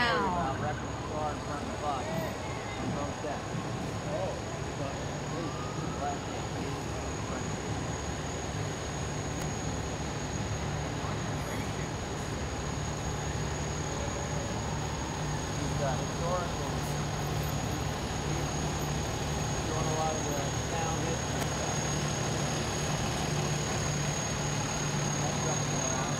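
Fire department tanker, engine and squad trucks roll through a community fireman's parade, a steady low engine rumble and idling drone running continuously beneath a loud public-address voice talking throughout.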